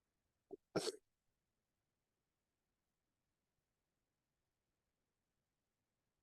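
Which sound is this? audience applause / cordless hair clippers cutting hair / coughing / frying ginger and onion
coughing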